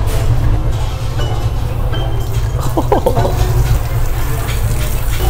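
Water pours down from above in a restaurant restroom in BGC, a steady loud rushing with a faint voice briefly under it.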